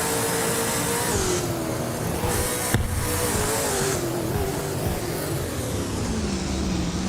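Engine of a 2018 Holden Commodore ZB race car, a steady loud drone with pitch rising and falling through gear changes, continuous and close, with no talking.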